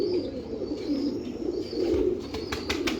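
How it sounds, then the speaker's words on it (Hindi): A prized golden pigeon coos in low, soft rolling calls close by. A faint high tone hangs in the background, and a few sharp chirps or clicks come near the end. "ये जी उन पट्ठों का बाप और सैफुल्लाह खान साहब का सबसे फेवरेट और सबसे फेमस कबूतर"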